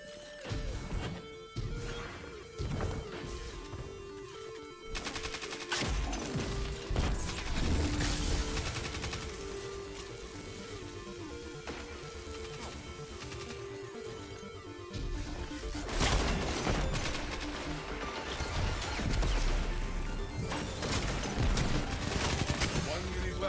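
SMG gunfire in the Destiny video game, with dense rapid bursts and crashing impacts that keep going through the whole stretch and shift in loudness as the fight goes on.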